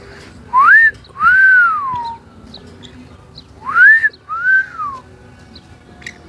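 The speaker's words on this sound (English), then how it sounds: "every time I whistle, he always makes a sound" A person whistles to a baby parrot beside its cage, two pairs of clear rising-and-falling whistled notes separated by a short pause, loud and close with a quiet background.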